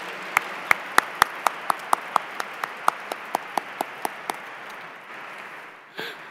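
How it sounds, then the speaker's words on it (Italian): Applause for an archbishop at a church dialogue event: one pair of hands claps sharply and evenly about sixteen times, close, over a faint murmuring hall, before stopping and leaving a brief thump. "Quindi direi di fare un bel applauso per il nostro arcivescovo."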